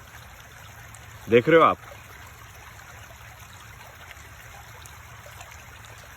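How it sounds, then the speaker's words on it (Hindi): A steady, faint trickle of stream water flows in the background through the whole stretch, with a brief spoken question near the start. "सिर्फ पानी की आवाज़ है, अच्छी प्रकृति है।"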